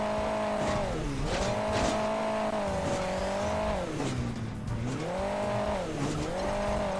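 Car engine in Hill Climb Racing 2 revving and accelerating continuously, pitch rising and falling repeatedly, with occasional tire squeal, loud and close, no talk.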